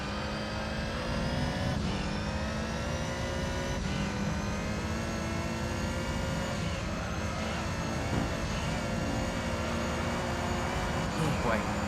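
Toyota Supra race cars at Trial Mountain in Gran Turismo 3 hold a continuous loud engine drone at high speed, steady roar with faint pitch shifts throughout.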